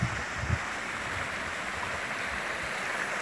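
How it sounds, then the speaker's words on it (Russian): Steady rushing water fills the whole stretch, a constant broadband roar of a nearby mountain waterfall at Brichmulla, Uzbekistan, with no voices. "Вот и водопад."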